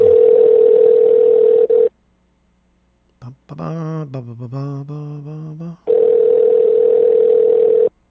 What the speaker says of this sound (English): we are calling back a caller